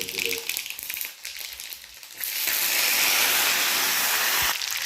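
Curry leaves dropped into hot oil already crackling with mustard seeds and garlic, a loud steady hiss and sizzle swelling up midway and holding, with a brief louder burst near the end.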